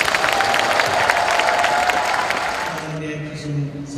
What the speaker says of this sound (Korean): 큰 박수로 축하해 주십시오.